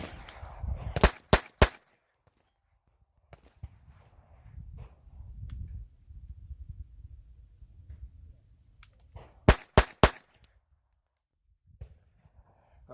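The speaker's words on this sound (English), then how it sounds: "I'm going to fire 3 rounds rapid fire." A pistol firing rapid rounds, with two tight bursts of three sharp, loud shots each, separated by quieter handling noise, and faint activity in between.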